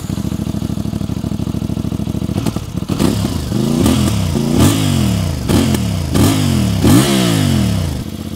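A CFMoto 450 MT motorcycle engine idles with a rough clatter, then is revved repeatedly in sharp bursts that rise and fall, loud and close.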